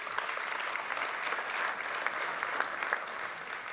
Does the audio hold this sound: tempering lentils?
no